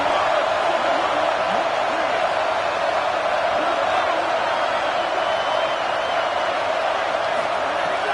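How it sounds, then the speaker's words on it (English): A home crowd roars at a college football game as a dense, steady wall of noise that stays loud and unbroken throughout. "Man, this crowd really affecting the football game."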